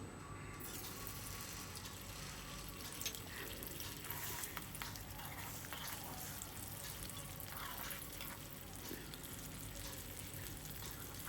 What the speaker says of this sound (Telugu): టూ ఎగ్స్ వేసుకొని ఇలా ఫ్రై చేసుకోవాలి.